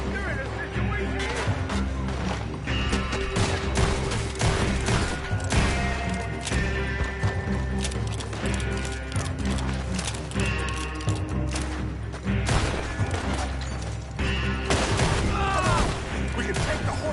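Rapid gunfire in a Red Dead Redemption 2 shootout, dense and continuous volleys layered over game music, with speech mixed into the noisy battle.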